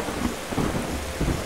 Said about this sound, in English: This is when the sky gets dark, thunder roars, and lightning flashes.